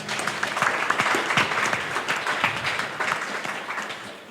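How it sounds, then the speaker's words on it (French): An audience at a French-language debating event bursts into sustained applause for a debater, a dense, even wash of clapping that holds for several seconds before easing slightly. "Mesdames et messieurs, veuillez applaudir Jonathan."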